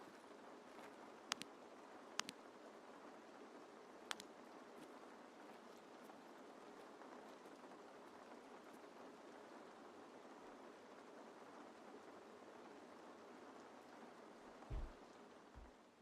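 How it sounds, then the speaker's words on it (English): Light rain with a steady, faint hiss throughout, a few sharp clicks and brief low thumps standing out now and then. "If the rain was always like this volume, it wouldn't be too bad."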